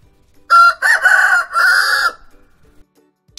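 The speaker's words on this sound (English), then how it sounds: "Chicken." Rooster crowing once, a loud, close cock-a-doodle-doo in three connected bursts with a brief clucking tail, heard alone with no talk.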